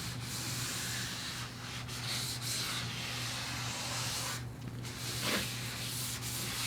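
Steady wet sanding with 600-grit paper on a 1979 VW Beetle body panel, a continuous gritty rubbing with a low constant hum underneath, close and fairly loud throughout.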